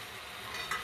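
Chopped tomatoes are stirred into a cooking pan for a ridge gourd dal curry, a brief soft mixing scrape over a faint sizzle.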